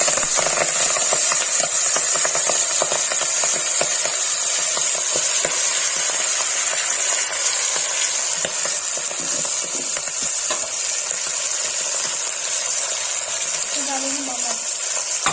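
Saag greens go into hot oil with cumin and asafoetida and sizzle loudly and steadily, with frequent stirring clatters up close. Brief faint speech comes near the end.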